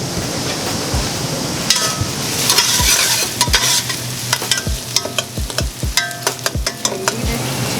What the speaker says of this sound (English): I need it to cook a little bit more to be a goldish color, the onion